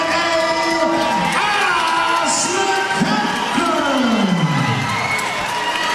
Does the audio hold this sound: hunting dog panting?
no